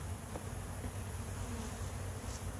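Honey bees buzz around a hive they are cleaning out, a soft continuous hum with no breaks, steady and fairly faint.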